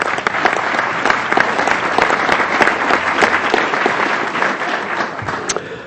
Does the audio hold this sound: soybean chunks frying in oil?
no